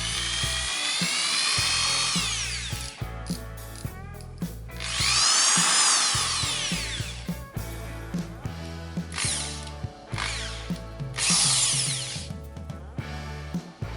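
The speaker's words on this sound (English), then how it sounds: "some corded drills have rotation speed control on the trigger" A corded power drill with trigger speed control runs in repeated bursts, its motor whine rising and falling as it spins up and slows, with ratcheting mechanical clicks between runs; loud, close and with no voices.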